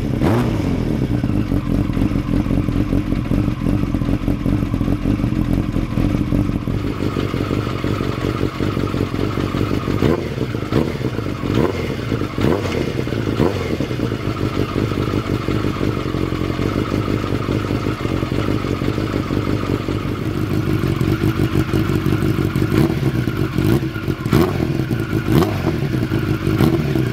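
A 1992 Kawasaki ZXR 750 J2 sport motorcycle engine runs and revs steadily up close, a loud continuous growl with clattery mechanical texture and occasional rises in pitch, no talk over it.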